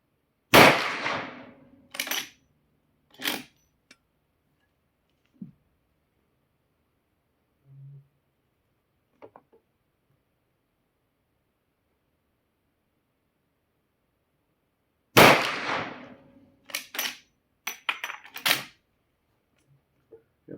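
A Rossi R92 lever-action rifle fires cast MP-MOLDS bullets: two sharp, loud shots about fifteen seconds apart, each followed by quick clacks of the lever action, with quiet gaps between.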